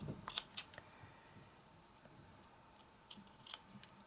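Quiet scissors snipping a strip of material, a few crisp close cuts in two short clusters separated by a near-silent pause.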